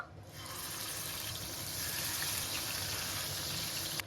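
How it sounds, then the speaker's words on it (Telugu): Marinated small fish frying in hot oil in a pan, a steady dense sizzle and crackle holding even and close for the whole stretch with no talking. "ఇప్పుడు మనం మ్యారినేట్ చేసుకుని ఈ చేపల్ని ఫ్రై చేసేద్దాము."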